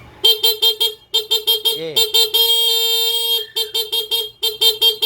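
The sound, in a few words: motorcycle horn honking, Suzuki Smash 115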